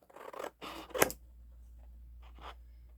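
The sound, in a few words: scissors cutting out paper pieces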